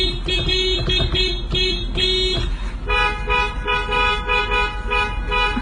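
Car horns honk in traffic while driving, a series of short rhythmic toots followed by longer sustained blasts, loud and close.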